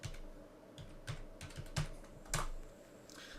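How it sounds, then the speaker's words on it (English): Quick keystrokes on a computer keyboard, a short run of light clicks at an uneven pace, close and quiet with no talking. "type it in."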